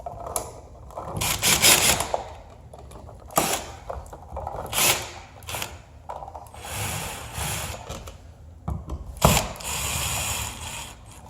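A screwdriver drives the screws that hold an electrical outlet receptacle back into its wall box, giving repeated close ratcheting, creaking turns in short bursts with pauses between them. Nobody speaks.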